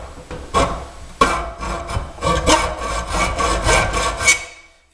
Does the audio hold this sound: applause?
no